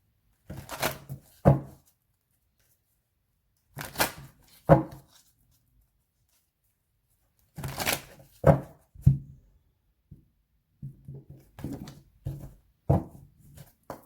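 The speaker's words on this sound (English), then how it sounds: "Oops, that was a really bad shuffle." Tarot cards being shuffled by hand in short bursts of riffling and slapping, several separate clusters with quiet gaps between them, fairly close and alone without talk.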